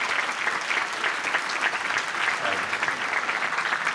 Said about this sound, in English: I hope you'll give them a round of applause for how beautifully they spoke.